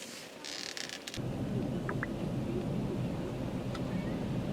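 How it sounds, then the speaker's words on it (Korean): Steady rain falling outside a café in Jeju, a constant dense hiss, with a faint brief clatter early on and nobody speaking. "비가 오는 게 조금 아쉽네, 마지막 날."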